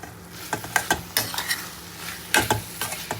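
Boiled peas being stirred and fried in a pan, with repeated scraping, clattering strokes over a constant sizzle, close by and with no voices.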